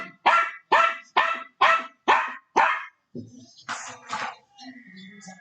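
A dog barks six times in a quick, steady series, loud and close, followed by fainter rustling and a muffled voice with some background sound during a livestream of a Mavericks–Clippers playoff basketball game.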